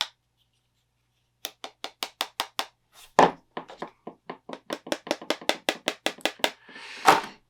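Quick series of light, hollow taps on a thin, hollow counterfeit vinyl Funko Pop figure, in uneven bursts with short pauses between them, close up and fairly quiet.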